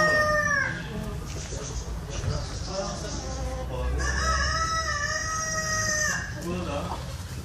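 Chinese chickens at a rare-bird keeping site in Iran cluck and crow loudly up close, one long rooster crow ringing out midway over steady barnyard noise, with voices talking underneath.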